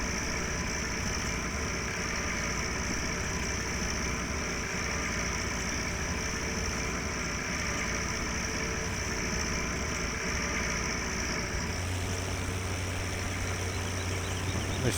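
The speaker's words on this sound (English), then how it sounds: "This tractor," A farm tractor at harvest time idles with a steady, unbroken drone that runs the whole length, and a low hum rises near the end; no talking.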